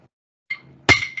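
A drumstick struck against a clave-like hard surface gives a few sharp, bright wooden clicks, one stronger hit followed by lighter taps, close and dry in a quiet room.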